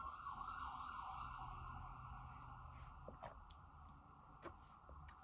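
A siren wails steadily through the background, fairly faint and distant, with passing traffic noise and a few brief clicks.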